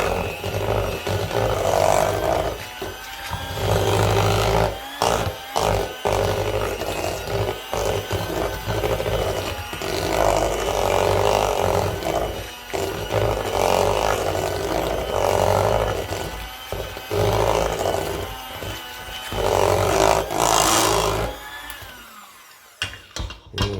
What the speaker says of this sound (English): give it one more little whirl. This is like the most work of it all, really just mixing this stuff up.